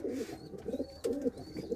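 Pigeons in a loft cooing up close, a few low throaty coos in quick succession with short gaps between them.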